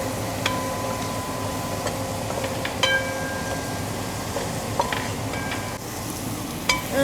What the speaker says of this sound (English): Just gonna fry it up to bring out the flavor and the fragrance of the spices.